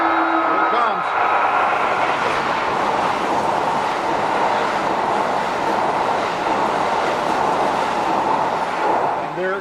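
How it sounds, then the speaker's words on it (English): A train arriving at a station in Japan rumbles steadily past at close range, its loud broadband roar filling the scene, with faint voices underneath. "as the train comes in, you need to, if you look at it, here it comes"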